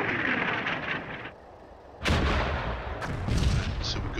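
Artillery fire in the World War II strategy game Combat Mission, US campaign at Bigonville: deep booming blasts with a sharp onset, one after a brief lull and another a second later, over rumbling background.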